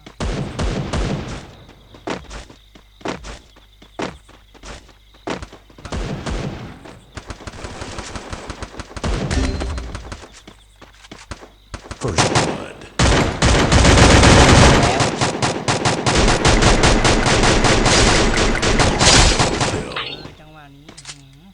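Gunfire in a shooting video game: scattered single shots and short bursts early on, building to a dense, loud continuous barrage toward the end, with voices talking over it.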